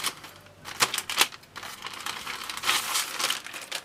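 Plastic packaging from an In My Ride 7 electric scooter (Vulcain V2) is unwrapped by hand, with close crinkling, rustling and a few sharp tearing bursts that come and go unevenly.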